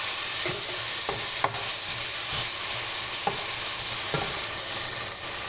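Garlic, chopped tomato and spices fry in a pan for a chicken bhuna, making a loud, continuous sizzle with several scattered scraping stirs and light clinks, close and without talk.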